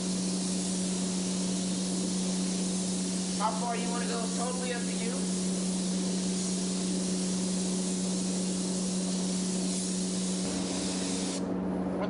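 A spray gun lays down tangerine candy paint for flame artwork on a vehicle, a steady hiss running the whole time beside a constant low hum, while someone talks briefly partway through.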